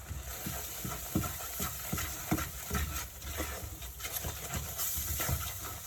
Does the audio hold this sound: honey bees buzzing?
no